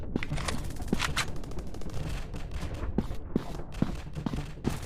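Rapid gunfire bursts and reload clicks come from a PUBG-style first-person shooter game, dense and continuous with sharp repeated shots throughout, close and loud.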